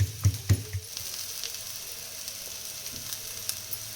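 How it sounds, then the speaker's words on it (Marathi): Crushed ginger and garlic fry in a pan for a vegetable manchurian gravy, a steady soft sizzle with a few low knocks at the start as the pieces drop in, no talking. "आलं लसूण टाकते, चांगलं भाजते आपल्याला, भाजून घेऊया चांगलं."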